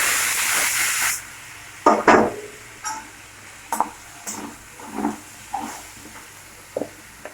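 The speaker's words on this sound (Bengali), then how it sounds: "ছোলা তেলেতে ভাজা হয়ে গেছে, দিয়ে দেবো টমেটো কুচি আর আদা কুচি" Chickpeas fry in hot oil with chopped tomato and ginger, starting with a loud hiss, then short sizzling bursts and clinks as the pan is stirred at intervals.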